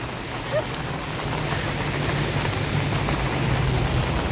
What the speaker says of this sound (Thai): ฝนตกเฉยเลย